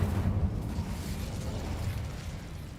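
Incendio fire spell in the Hogwarts Legacy video game, a loud whooshing flame burst that opens strongly and then settles into a continuous roaring rumble for nearly three seconds, with no voices.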